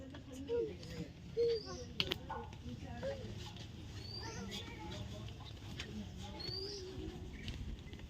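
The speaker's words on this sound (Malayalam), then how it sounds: "ആ കിളികളുടെ ശബ്ദം നിങ്ങൾ കേൾക്കണില്ലേ" Small birds chirp and whistle in short, scattered calls over a low ambient hum, fairly faint and some distance away, at a temple.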